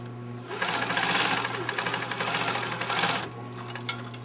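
A sewing machine stitching a seam on fabric binding strips runs in one loud, close burst of about two and a half seconds, a fast rattling whir of needle strokes that ends with a few slower stitches.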